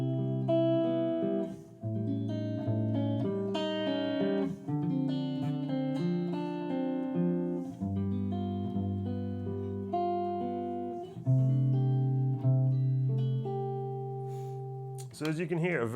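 Clean electric guitar through a Kemper profiling amp and a Mesa Boogie 4x10 cabinet, playing a continuous passage of chords and single notes that ring clearly and evenly, close and transparent, with a short scratchy burst at the end.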